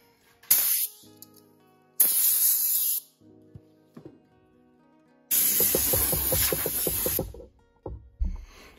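Compressed air blasts onto a steering wheel under restoration in a home garage, coming as three loud, close hissing bursts of one to two seconds each, the last one sputtering and uneven.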